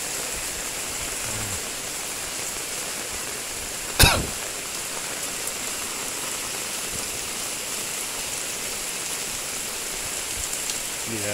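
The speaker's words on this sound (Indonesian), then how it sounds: "Hujan sangat deras sekali." Very heavy rain falls steadily in Samarinda in October 2020, a constant loud roar of downpour. A single cough cuts through briefly near the middle.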